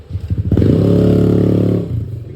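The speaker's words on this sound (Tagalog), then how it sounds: "Ingay na motor ni JC." Loud, close motorcycle engine revving up from a sputtering idle into a sustained buzzing drone, then dropping back to a rough idle.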